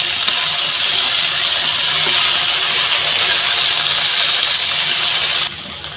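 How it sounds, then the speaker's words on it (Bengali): Okra frying lightly in hot oil in a pan, a steady dense sizzling hiss filling the whole stretch before cutting off near the end. "ঢ্যাঁড়সগুলো এবারে হালকা করে একটু ভেজে নিচ্ছে,"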